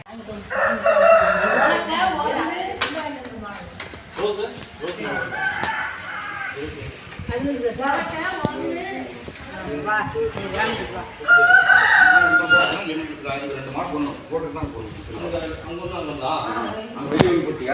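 A rooster crows loudly over a noisy farmyard, with other fowl clucking and people talking throughout.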